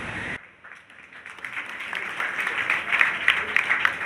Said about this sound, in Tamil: கரங்களை தட்டி நாம் வாழ்த்து தெரிவிக்கலாம்